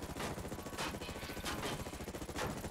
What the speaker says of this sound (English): Oh, gun is shooting.